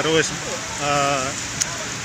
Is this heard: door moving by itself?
no